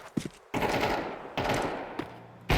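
Gunfire in a shooter video game: three loud, rapid automatic bursts spaced about a second apart, with brief quiet gaps and no talk over them.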